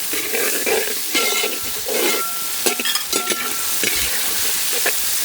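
Onions, capsicum and tomatoes frying in a pan with a steady close sizzle, broken by several bursts of stirring and scraping with a spatula; no voices.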